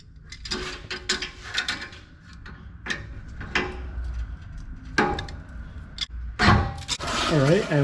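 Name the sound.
removing bracket's two 12mm bolts with a ratchet wrench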